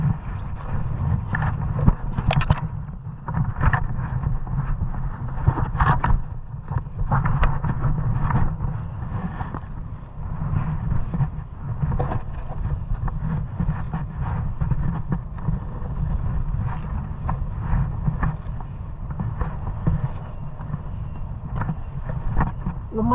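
Strong wind blows outdoors, a continuous low buffeting roar against the microphone with irregular gusts and rumbles throughout, fairly loud and unbroken.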